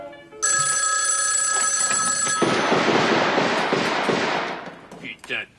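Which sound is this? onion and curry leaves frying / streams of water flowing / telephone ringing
telephone ringing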